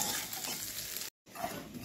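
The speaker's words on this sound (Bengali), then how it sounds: "সর্ষের তেলে অবশ্যই রান্না করব, সর্ষের তেলে একটু ভেজে দেব" Vegetables fry in mustard oil, sizzling and crackling steadily, with a brief break in the middle.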